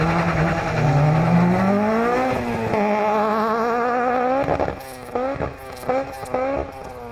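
A Honda Civic rally car pulls away from the SS3 start line at the Argyll Rally. Its engine revs hard and climbs through the gears, then fades into distant, intermittent revving with clattering bursts.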